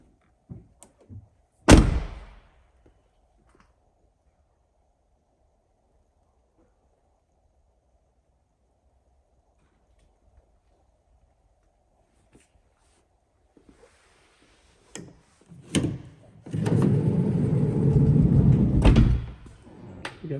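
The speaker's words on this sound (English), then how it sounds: "Again, power latching side door." A power latching side door on a 2023 Volkswagen Transporter T6.1 long-wheelbase van slams shut with a single loud thunk early on, then after a quiet stretch come a few clicks and a sustained whirring motor latch sound.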